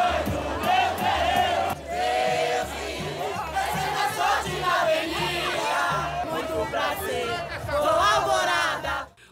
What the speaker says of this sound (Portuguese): Enquanto chegavam os mapas das notas na sala de apuração do sambódromo, a torcida cantava os enredos.